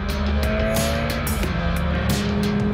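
A 2021 Mercedes-AMG A 45 S hot hatch with 421 PS and 500 Nm on a high-speed run, its engine a loud, steady drone with shifting pitch and rushing wind noise throughout.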